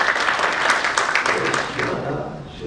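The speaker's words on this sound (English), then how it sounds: "give a big round of applause for the same" Audience applause at a book launch for an entrepreneur guidebook, a sustained crowd clapping that is loud at first and gradually fades over a few seconds.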